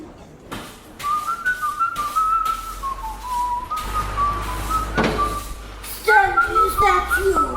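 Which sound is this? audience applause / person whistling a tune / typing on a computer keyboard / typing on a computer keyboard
person whistling a tune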